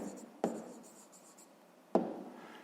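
A pen scratches out the answer to a fifth-grade math exercise on paper, quiet and close, with two sharp taps as it touches down between soft writing strokes.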